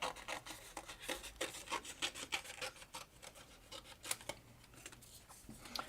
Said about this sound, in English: close your eyes if you can't stand to see me cut this paper up